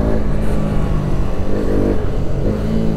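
A motorcycle engine revs steadily on a road, loud and near, its rumbling tone wavering slightly over a few seconds with no voices.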